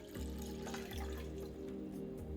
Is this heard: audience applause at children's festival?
no